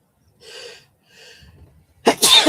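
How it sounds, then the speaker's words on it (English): Two soft breathy inhales build up, then a loud, sharp sneeze bursts out close by, followed by a brief snorting exhale. "Gonna sneeze."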